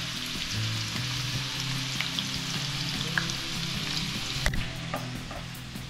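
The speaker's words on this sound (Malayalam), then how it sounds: "നമ്മൾ സൺഫ്ലവറിൻ്റെ എണ്ണയ്ക്കകത്ത് ഇത് വറക്കുന്നു" Potatoes fry in sunflower oil with a steady close sizzle and occasional crackles and stirring clicks, no talking.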